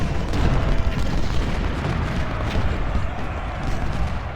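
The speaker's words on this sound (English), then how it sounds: "Let's bring the Cambridgeshire cannons." Cannon artillery from Cambridgeshire gun batteries in a Civil War strategy game, a dense continuous rumble of booming shots rolling together at mid distance with no clear gaps.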